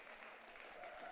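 A crowd of kindergarten parents at a school information night claps briefly in a hall, faint and distant, with no cheering standing out.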